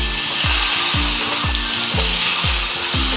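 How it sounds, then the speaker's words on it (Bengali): Potatoes fry in leftover fish-frying oil, a steady close sizzle with regular scraping stirs of a spatula about twice a second, no voices. "এখন আমি আলু মাছের মাছ ভাজার তেলের মধ্যে আলুটা ভেজে নিচ্ছি"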